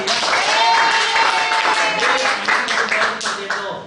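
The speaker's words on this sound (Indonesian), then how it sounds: "beri tepuk tangan untuk media" During a PPKn microteaching lesson, a small class claps for the media. The applause is close and fairly loud, with voices and tonal chatter mixed in over the clapping.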